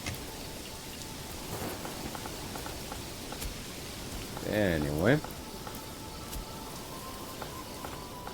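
Steady rain falls in the medieval city-building game Manor Lords, a soft constant hiss in the background while someone briefly speaks partway through.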